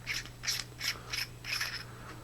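The greased threaded tail cap of a Nitecore MT42 flashlight is unscrewed in close, rhythmic twisting strokes, producing five short gritty ratcheting scrapes against a faint steady hum.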